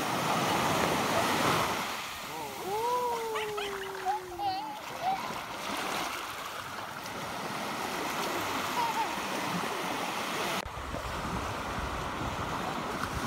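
Sea waves wash along a beach in Batangas in a continuous, fairly loud surf rush with splashing as people wade in the shallows, and voices and shouts carry over the water.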